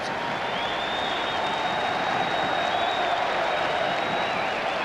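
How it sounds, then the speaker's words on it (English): Packed Cardiff Arms Park rugby crowd in a 1995 Cardiff vs Swansea match on its feet, loud sustained cheering and applauding with a constant roar and a few high whistles over it. "It's brought the Cardiff crowd to its feet."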